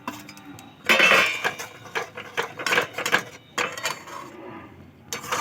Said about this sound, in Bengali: অল্প অল্প করে দেবো আর নাড়াতে থাকবো।